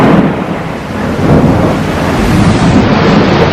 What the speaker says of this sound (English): You can hear the loud thunder.